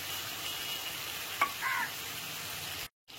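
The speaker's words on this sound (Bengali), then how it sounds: "এবার মশলাটাকে খুব ভালো করে 4 থেকে 5 মিনিট ধরে কষিয়ে নিতে হবে" Chicken keema khichdi spice paste of turmeric, cumin and Kashmiri chilli powder fries in a pan with a splash of water, giving a steady close sizzle with a single utensil clink partway through before the sound cuts out near the end.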